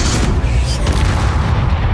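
In Hogwarts Legacy, the Bombarda spell explosion lands as a loud, close, rumbling boom that sustains a heavy low roar for a couple of seconds, with a faint voice briefly audible in the mix.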